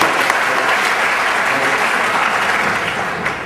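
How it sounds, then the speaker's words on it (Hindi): Loud, dense applause fills the space after a host calls for a big hand at a speaking event, steady and unbroken throughout with no voices over it. "इनके लिए जोरदार ताली।"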